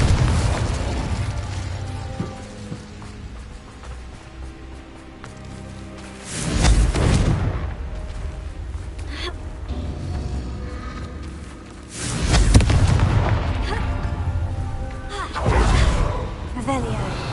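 Confringo blasting curses go off in Hogwarts Legacy, two heavy booming blasts a few seconds apart with rumbling tails, over continuous game sound and spoken voices.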